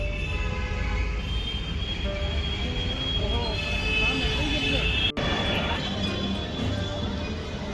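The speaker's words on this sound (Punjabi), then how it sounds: "ਉਹ ਸਾਹਮਣੇ ਮੈਟਰੋ ਜਾਂਦੀ ਆ" Continuous rumble and whine of a Lucknow Metro train running past nearby, with a brief squeal of wheels and a voice speaking over it.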